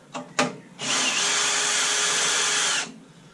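A power screwdriver spins off 10mm nuts under the cap of a Lotus Evora V6, two short clicks first, then one steady high whirring run of about two seconds, close and loud, with no talk.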